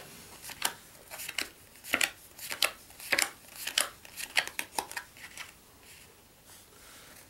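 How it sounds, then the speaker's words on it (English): Playing cards dealt one by one into piles for a magic trick, a string of crisp, light snaps and slides at an uneven rhythm, close and fairly quiet, with no talking. "I'll deal these cards out."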